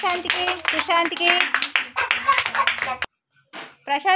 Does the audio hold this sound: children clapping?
yes